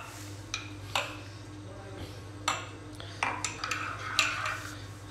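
A spoon clinks against cups while coffee is mixed. The light, bright taps come irregularly, sometimes in quick clusters, over a steady low hum.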